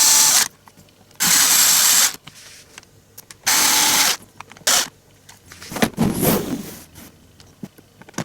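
An electric screwdriver drives the final screws into an acrylic display case in three loud, steady whirring bursts of about a second each. Quieter handling clicks and rustles fill the gaps, followed by a busier stretch of scraping and tapping.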